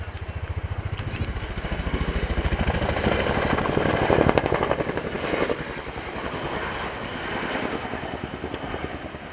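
An RAF Chinook twin-rotor helicopter flies a display, its 30-foot blades throbbing in a loud, rapid, rhythmic beat that swells as it passes close and then eases slightly.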